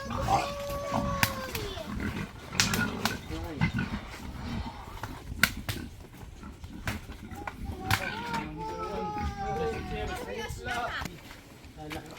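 Pigs grunting and squealing at a pig sale, close and loud in irregular bursts over steady background noise, with people talking throughout.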